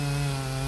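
A Husqvarna 55 chainsaw, fitted with a modified muffler, cuts through a thick log near a knot, giving a loud, steady, close-up buzzing drone with no pauses.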